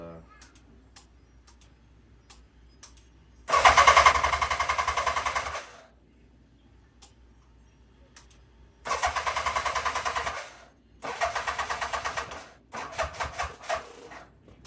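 A 1987 Yamaha FZR 1000 Genesis motorcycle engine with a dying battery runs in several loud bursts, idling roughly for a few seconds at a time before cutting out, with quiet gaps in between.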